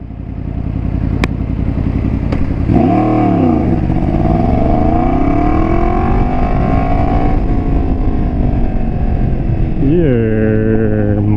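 Yamaha FZ10 motorcycle with an aftermarket exhaust, riding in traffic: a loud, close engine note rises and falls through revs, with a sharp swell near the end, while a voice talks over it.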